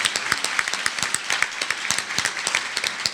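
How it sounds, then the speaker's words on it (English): Conference audience applauding Danny Davis, a dense wash of many hands clapping steadily and fairly close, with no voices over it. "Give Danny Davis a round of applause for his advocacy all the way through"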